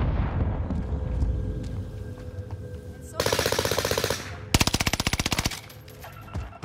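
Automatic gunfire in the video game Warzone rattles out in two loud, sustained bursts, the second one sharper and more clipped, over a busy background of game ambience.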